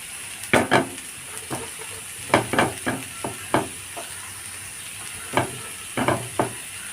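Cabbage stirred into a hot pan with salted boiled potato for a masala roast: close, soft sizzling broken by a series of sharp spatula scrapes and taps, grouped in irregular bursts.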